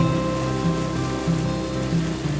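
Rain falls steadily during a canal boat cruise in Bruges, a continuous close hiss and patter with faint tonal music running beneath it throughout.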